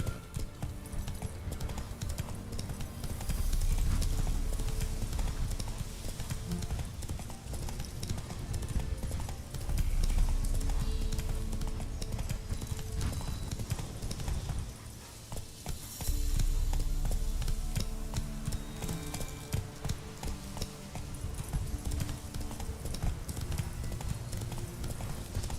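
Hooves of Roach, a horse in The Witcher 3 set in Velen, clip-clop in a steady galloping rhythm throughout, with a rider's voice briefly urging it on over the continuous hoofbeats.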